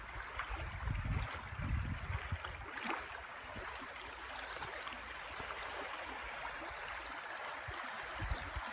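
The James River flows past a long stretch of riverside frontage as a steady, soft wash of moving water, with a few low rumbling bumps early on and no voices.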